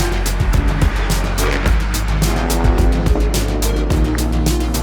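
Race cars pulling away at the start of a two-hour motorsport race, loud revving engines and rapid gear changes with cars roaring past close by.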